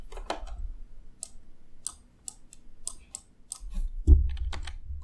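Calculator keys pressed one at a time while graphing a function for a math exam: sparse, light clicks at uneven intervals, ending with a firmer knock.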